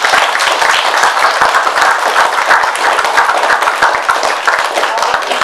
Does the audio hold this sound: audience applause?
yes